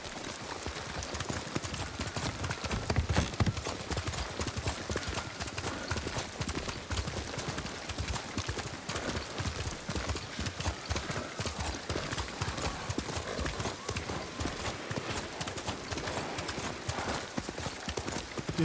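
A horse gallops in the video game Ghost of Tsushima, with fast, rhythmic, close hoofbeats pounding steadily over the whole stretch without pause.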